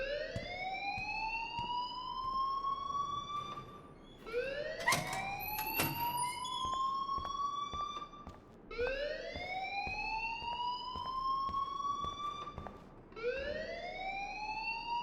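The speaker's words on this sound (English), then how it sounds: "please turn off that alarm since that's your job" An alarm rings in the video game Life is Strange, repeated rising electronic whoops roughly every four seconds, steady and moderately loud with no talking.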